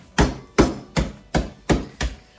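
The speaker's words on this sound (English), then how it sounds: "Put the biscuits in a freezer bag and use the rolling pin to crush them up." Rolling pin pounding biscuits inside a freezer bag, six sharp thumping blows at an even pace, close and loud with no talking.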